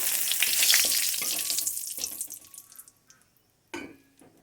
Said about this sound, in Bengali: কালো জিরা ফোড়ন দিয়ে দিলাম একটা শুকনো লঙ্কা একটা তেজপাতা